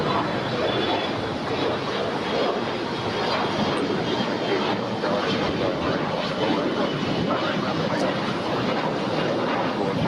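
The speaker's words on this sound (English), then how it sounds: "up next we have United Airlines Flight 289 coming in from Denver on a Boeing 737" A United Airlines Boeing 737 MAX 9 arriving from Denver lands at Los Angeles International Airport, giving a steady, broad jet roar with wind noise that holds at an even level throughout, with no talk.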